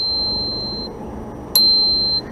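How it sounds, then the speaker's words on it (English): A cheap bicycle bell mounted on a Talaria Sting electric bike gives two bright, high-pitched rings, a faint first tone followed by a sharper second strike that lingers before fading, close to the microphone. "So I use this bell, and as you can hear, it's just nice, like pitch"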